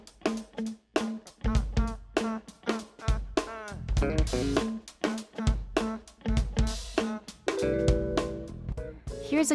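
A song plays alone, a musical recording with a steady beat, bass and shifting melodic and vocal-like tones, loud and continuous throughout.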